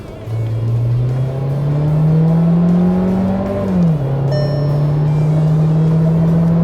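A Volkswagen Taigun engine revs hard in a loud, close pull from second gear in manual sport mode, its tone climbing steadily then dipping briefly at a shift before droning on, with no talking.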